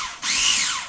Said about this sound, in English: We're going to pulse this a couple times, get everything mixed up, just like so.